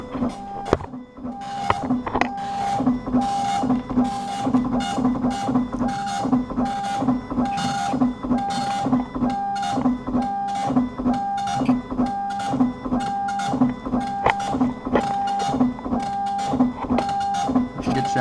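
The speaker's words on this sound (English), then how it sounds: "thought some printing options would come up, but it's just printing" A printer attached to a Macintosh 512k prints steadily, its head moving back and forth in a fast, even, repeating mechanical rhythm that stays loud and close throughout.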